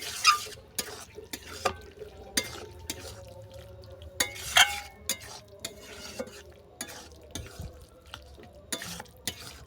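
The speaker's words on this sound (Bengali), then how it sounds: "ঘিটা ভালো করে মিশিয়ে নিচ্ছি" A spoon scrapes and knocks around a pan while ghee is stirred into a chicken and banana-flower curry, giving repeated sharp clinks over a soft sizzle, close and fairly quiet with no talking.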